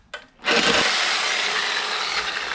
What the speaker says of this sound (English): Let's cut this thing off here. We'll cut this little piece off first.